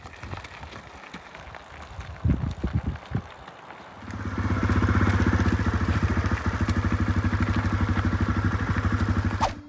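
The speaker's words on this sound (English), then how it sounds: "I didn't even know that you were that good at bump starting" Honda CRF250F enduro dirt bike being bump started on single track: a few rattling thuds and sputters, then the engine catches and settles into a loud, close, steady throbbing idle.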